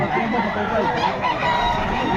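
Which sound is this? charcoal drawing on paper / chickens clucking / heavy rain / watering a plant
chickens clucking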